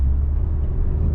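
A 2018-or-later Toyota Camry cruises in third gear, giving a steady, close low engine and road rumble with no gaps.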